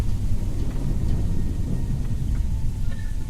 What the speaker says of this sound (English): I've got lightning striking my buildings